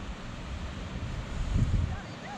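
Water rushes steadily at a waterfall in the Oumbéa valley on a hike, a broad continuous roar with some wind buffeting the microphone and faint voices in the background.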